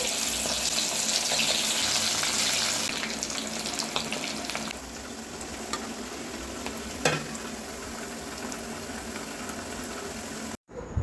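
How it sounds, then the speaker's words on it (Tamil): Boiled potato pieces deep-frying in oil for a Tamil potato curry, a dense, loud, continuous sizzle that settles slightly lower after a few seconds, with a faint clink partway through and no talking. "மீதி இருக்கிறத எண்ணெயில் பொரித்து எடுத்துக்கலாம்."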